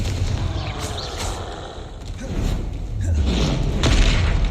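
Confringo explosive spells go off in the video game Hogwarts Legacy, a series of deep booming blasts and thuds layered with rumbling game effects, swelling louder toward the end.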